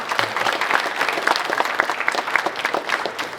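An audience at an opening ceremony breaks into loud, dense applause to welcome an honoured guest, a sustained burst of many hands clapping close by.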